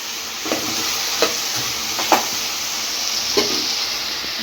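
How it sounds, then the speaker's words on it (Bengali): Potato pieces fry for aloo posto with a steady, soft sizzle and hiss in a hot pan. A few sharp scrapes and clinks of a spatula stir them at irregular intervals, close by, with no speech. "আর আলুটাকে ভেজে পোস্ত বানাচ্ছি।"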